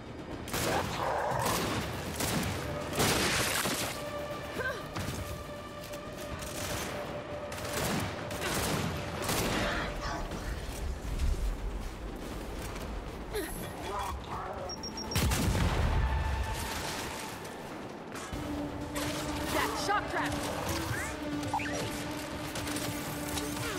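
Dense gunfire in the video game Gears of War 5, with repeated sharp shots and crashing impacts over a busy battle bed and heavy low booms in the middle.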